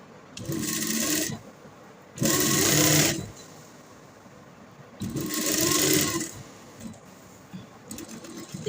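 Sewing machine stitching the folded seam of a large kurta, running in three loud, close bursts of about one second each, separated by short pauses, with a quieter whir near the end.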